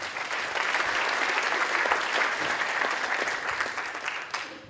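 An audience at a conference session on energy infrastructure applauds to welcome speaker Volker Beckers, a sustained dense clapping from many hands that holds steady and then tapers off.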